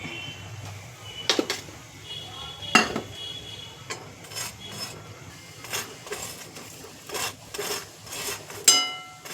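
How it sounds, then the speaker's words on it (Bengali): An aloo paratha dry-roasting in a small wok over lowered heat, with a spatula scraping and pressing it in scattered short strokes and light metallic taps against a quiet kitchen background. "আগে একটু ভালো করে সেঁকে নিই, তারপরে তেল দেব।"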